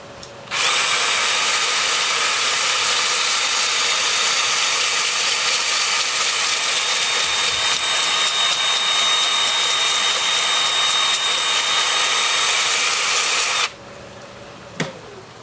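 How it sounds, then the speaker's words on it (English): A power sander with a 2-inch 80-grit disc grinds against a honeysuckle root bowl on a lathe, a loud continuous high whirring that starts abruptly and stops near the end. "then I'll switch to my 2-inch disc at 80 grit"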